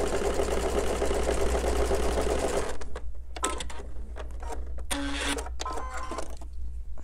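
A sewing machine stitches half square triangles in a fast, continuous whirring chatter for about three seconds, then stops, leaving a few short clicks and bursts of handling noise.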